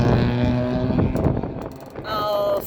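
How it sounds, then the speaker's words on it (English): A motorcycle passes close by, a loud, rough engine rumble with strong low harmonics that fades over about two seconds, then a fresh engine drone rises again near the end. "I'll start again because of the motorcycle."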